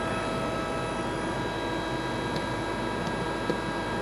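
A 27-year-old Emco CNC lathe with live tooling runs its spindle at a slow 500 RPM, a steady low mechanical hum and whine with faint ticks, constant throughout.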